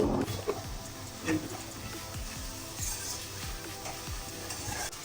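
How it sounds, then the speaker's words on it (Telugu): Onions fry in hot oil in a pan for chicken curry, with a low continuous sizzle and repeated scraping strokes of a spatula stirring at a fairly even pace. "ఆనియన్స్ వేసిన తర్వాత వీటిని కొంచెం బాగా బ్రౌనిష్ కలర్లోకి వచ్చేలా ఫ్రై చేసుకోవాలి"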